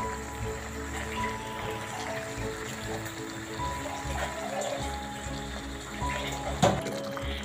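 Water poured into a pot of simmering country chicken gravy in a traditional village kitchen, a steady liquid wash with a brief louder splash near the end.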